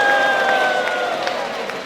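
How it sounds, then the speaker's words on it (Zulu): Church congregation breaking into applause, a steady wash of clapping with crowd murmur and scattered cheers throughout. "Ake sishayeleni ihlombe bazalwane"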